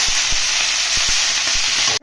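Washed leafy greens fry under a lid in a pan, a loud, close, steady sizzle with a few soft knocks underneath, ending abruptly.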